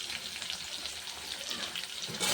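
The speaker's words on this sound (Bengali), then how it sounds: "জিরেটা ভাজা হয়ে গেছে," Cumin seeds frying in hot oil, giving a steady, fairly quiet hiss that swells slightly toward the end, with no talking.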